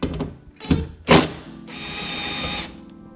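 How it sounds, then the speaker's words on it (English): A small pneumatic air gun backs out 10 mm bolts from the door of a 2009 Honda Civic: two short loud rattling bursts, then a longer steady whirring run, close up and with no speech. "10 millimeter on a little air gun"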